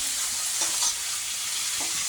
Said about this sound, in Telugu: వేసి ఒక ఫ్యూ మినిట్స్ ఫ్రై చేశాక ఫస్ట్ ఇది వేరేగా గ్రైండ్ చేయాలి.